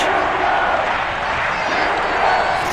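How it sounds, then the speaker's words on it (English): Steady roar of a sold-out stadium crowd in the Madden NFL 22 video game, a Packers versus Steelers game at Heinz Field, a dense, constant wash of cheering that fills the whole stretch. "Big Ben Roethlisberger greeted by this sold-out Heinz Field crowd"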